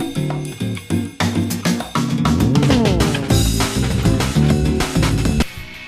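Jazzy, funky soundtrack music from the Sonic Unleashed video game plays loud and steady, with punchy bass lines, brassy stabs and busy drums filling the clip before a quick fade at the end.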